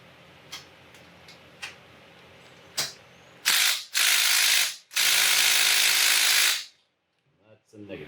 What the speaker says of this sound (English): I'm going to try the impact on it